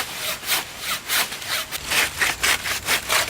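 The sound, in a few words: hand saw cutting a section off a wooden log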